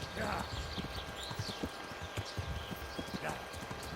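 Horse hooves clip-clop rapidly in a medieval setting from the game Kingdom Come: Deliverance, a steady galloping rhythm heard beneath someone speaking, with some background sound.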